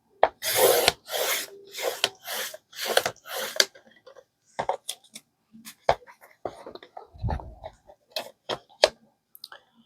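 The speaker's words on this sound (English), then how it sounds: "I really do like this trimmer because it's got that line that I can make sure to line everything up on. So I get a straight cut finally." Paper trimmer cutting printed journal pages: several long rasping slides of a blade through paper up close, followed by scattered light clicks and taps of paper being handled in a quiet room.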